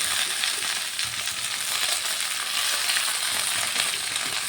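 Chopped spinach fries in a hot pan with a dense, continuous sizzle that holds steady and close throughout, and no one speaks over it.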